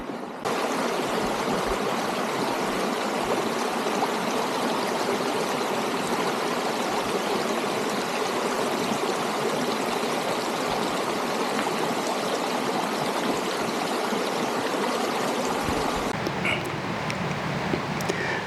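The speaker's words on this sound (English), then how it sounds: "this little stream here, we just got some rainfall over the past couple of days" Small desert stream running after recent rainfall, a steady close babble of flowing water that holds for the whole clip with no voices.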